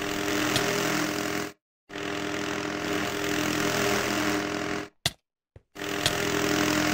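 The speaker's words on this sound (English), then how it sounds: "Ugh, the drone." A drone flying overhead in a video game gives off a steady, loud buzzing whine with a mechanical hum. It cuts out abruptly a few times for brief moments of silence.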